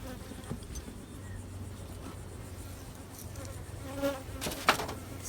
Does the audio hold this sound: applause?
no